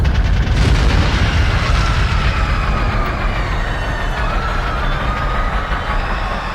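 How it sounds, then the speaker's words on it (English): A rocket strikes an anti-grav fan on a great ship in an audio drama, producing a loud, sustained explosive roar and rumble that fills the whole stretch and slowly fades. "There's been an explosion. I thought I saw a rocket."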